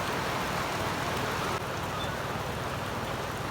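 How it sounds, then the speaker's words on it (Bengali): Heavy rain pours down in a dense, constant roar with no breaks. It is loud and unbroken from start to finish. "প্রচুর প্রচুর বৃষ্টি হচ্ছে"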